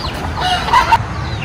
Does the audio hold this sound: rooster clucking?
yes